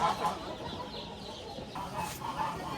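Chickens clucking nearby with a rooster's call among them, set against a busy background murmur of a poultry market in Manas.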